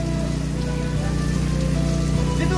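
Sunshine rain falls as a steady patter on surfaces, close and even, with a faint low hum running beneath it and no one talking.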